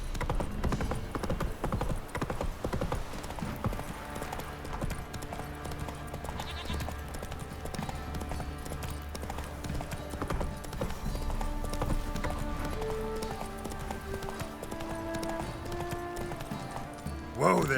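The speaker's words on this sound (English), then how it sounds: "Whoa there, Roach." Horse hooves clip-clop in a steady walking rhythm in the video game Witcher 3: Wild Hunt, sounding fairly close and soft under game music and talking.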